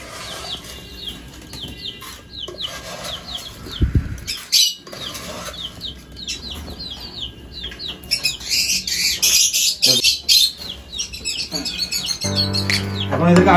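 Pet lovebirds and cockatiels chirp and squawk in a busy, overlapping chorus, close and loud, with a brief flutter of wings and a few thumps of cage handling.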